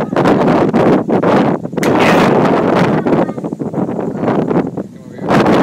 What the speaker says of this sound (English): Did you feel that force of that wind?